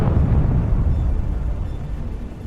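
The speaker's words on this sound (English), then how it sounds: "The vehicle burns for a while before being literally torn apart by the detonation." Tank destroyed by a Javelin missile hit, a deep rumbling detonation with roaring low-end blast that fills the whole stretch and slowly fades, no voices present.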